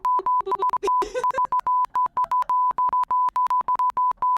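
A steady censor bleep tone pulses in rapid, uneven on-off bursts like Morse code, loud and alone, with a brief noisy scrape partway through.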